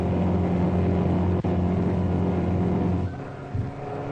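A 1962 Ford Mustang research car with a 1.5-liter engine running at about 6,100 RPM on the Daytona Speedway, a steady engine drone with harmonic tones, then a shift in pitch and fading as it passes.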